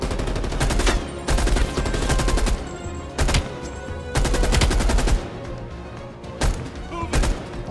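Rapid bursts of RPD machine gun fire in Black Ops Cold War gameplay, several loud sustained volleys separated by short pauses, close and dominant with other game sounds underneath.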